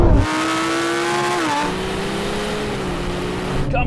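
Ferrari 296 GTB, McLaren 750S, Lamborghini Huracán Performante and Porsche 911 Turbo S launch hard off the line in a drag race, a loud continuous engine roar climbing through a gear change and then holding steady, with no talk.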